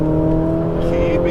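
A Ferrari 488 GTB on a racetrack holds full throttle, its engine giving a loud, steady, close-up drone at sustained revs through the short moment.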